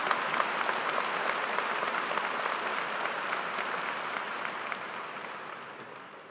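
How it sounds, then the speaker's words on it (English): Warm, sustained applause from a large audience at a university commencement ceremony, steady clapping that slowly fades toward the end. "Could we have one more round of applause for our brave, wonderful commencement speaker?"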